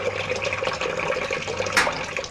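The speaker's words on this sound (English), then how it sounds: "water gushes in, released by a sort of electric tap called a solenoid valve" Water gushes into a washing machine as a solenoid valve opens, a steady rushing flow with a brief louder splash near the end.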